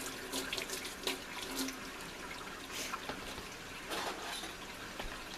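A kitchen sink sprayer blasts hot water onto a pan in a continuous hissing spray, with splashes and shifting bursts as the stream moves, up close and without talk.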